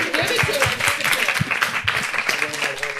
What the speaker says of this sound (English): can we just applaud you for it?